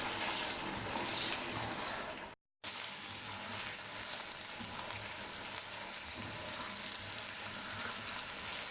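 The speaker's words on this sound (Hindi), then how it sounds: "अब इसे 4 से 5 मिनट के लिए फ्राई कर लेंगे अच्छे तरीके से।" Chicken fries in a pot for biryani with a loud, steady sizzle and crackle, a broad hissing wash broken by one short silent gap before continuing unchanged.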